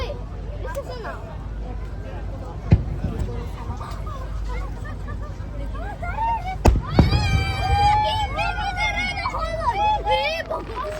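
Fireworks bursting over Muroran port, with sharp pops and booms and whistling, crackling trails rising over a steady background of crowd chatter and speech.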